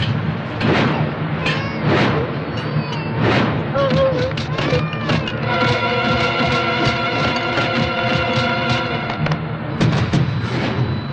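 A bomb blast from a dubbed South Indian action film: deep booming explosion bursts through the scene, layered with music and dramatic effects, while people speak over it.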